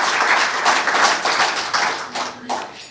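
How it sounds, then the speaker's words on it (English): Audience applause at a community ceremony awarding an honorary degree, steady close hand claps from a small crowd lasting a few seconds and tapering off, with no talk over it. "give a big hand of applause to the board and to Samir and Andy"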